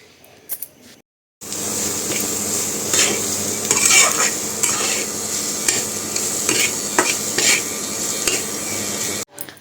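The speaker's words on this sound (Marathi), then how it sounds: "आपण आता मिरचीचा जो मसाला केलेला आहे तो सर्व मसाला यामध्ये टाकून आणि छान असा तेलामध्ये परतून घेऊया" Chili masala paste stirred and fried in hot oil in a pan for a greens dish, a steady close sizzle with scraping spoon strokes throughout after a brief quiet start.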